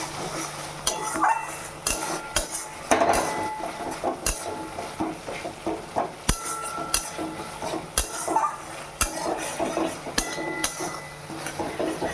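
Spice paste with mustard paste is fried in a pan for hilsa fish curry, with a soft sizzle under repeated scraping and clanking of a spatula against the pan, close and busy.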